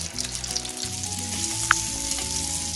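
Aloo tikki potato patties fry in a pan with a dense, continuous sizzle and crackle, close and steady, with one sharp clink partway through and no voices.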